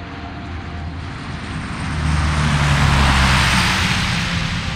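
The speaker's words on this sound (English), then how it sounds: "mothers the world over are thankful for the day that Lockheed created the Hercules." Lockheed Hercules aircraft engines give a loud, continuous propeller drone with broadband roar that swells slightly in intensity midway and holds steady throughout, with no voices.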